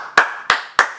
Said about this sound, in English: clap it up for him, bro